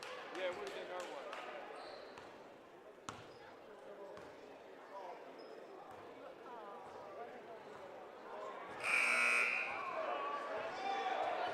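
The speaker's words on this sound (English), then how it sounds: "On the buzzer, Mr. Harrison." A loud buzzer blares for about a second at a boys' high school basketball skills competition in a busy gym, rising over crowd noise and an announcer on the PA.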